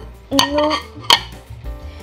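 Ceramic plates clink together as they are handled, two sharp ringing knocks close to the microphone with a faint scrape between them.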